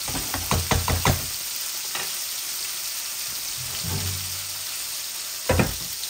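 Tilapia fish with potatoes and capsicum fries in a pan. A few sharp spatula knocks come at the start and again near the end, over a steady soft sizzle, with no talking.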